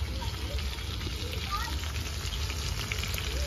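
Spice-marinated chicken goes into a pan of frying potatoes at a village-style picnic, giving a steady, dense sizzle that fills the whole moment with hissing crackle.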